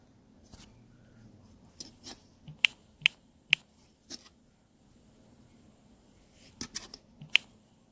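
Sparse keystrokes on a computer keyboard tap out irregularly, a handful of sharp clicks in small clusters separated by quiet pauses, close and fairly faint.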